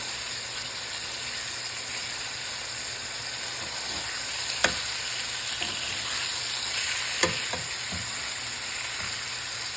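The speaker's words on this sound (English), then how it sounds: "You just want to brown them a little bit on both sides." Salisbury steak patties sear in a hot pan, a dense, steady sizzle and crackle with occasional clinks and scrapes of a utensil, close and fairly loud, with no voices.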